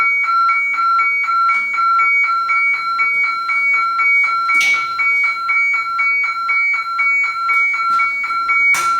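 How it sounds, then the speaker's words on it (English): A FireAvert auto shutoff device for a gas stove sounds its distinctive alarm: a steady, loud, rapid train of shrill electronic beeps repeating evenly throughout, close by with no talk. "You push it, that unique sound will automatically turn the gas stove back on for you."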